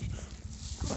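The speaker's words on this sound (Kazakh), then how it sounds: "Алдымыздан ит өтіп жатыр." A dog passing by on a road, heard faintly as brief low sounds among quiet street background.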